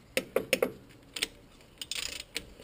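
Wheel nuts are tightened on Land Rover Discovery wheel adapters, producing quiet, close metallic clicks and short ratcheting bursts in irregular clusters with pauses between them.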